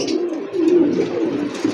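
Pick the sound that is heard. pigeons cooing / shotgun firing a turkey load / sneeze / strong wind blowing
pigeons cooing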